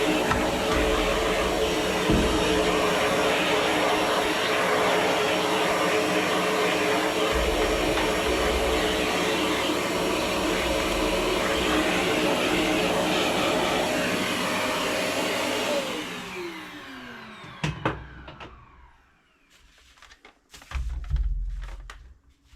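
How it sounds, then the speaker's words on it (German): A vacuum cleaner drones loudly and steadily while sucking dust from a dirty PS4 console, then winds down and cuts off, followed by faint handling knocks and a brief renewed whir. "Dann muss ich mir hierfür einmal einen Sauger holen."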